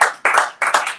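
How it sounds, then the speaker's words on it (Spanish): A church congregation claps during a sermon in three sharp, loud bursts of many hands, each one fading quickly before the next begins. "Denle un aplauso al Señor."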